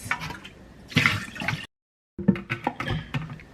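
Water drains and splashes out of freshly washed, ice-soaked lettuce in a kitchen strainer, in two bursts of close wet rushing and dripping separated by a brief silence.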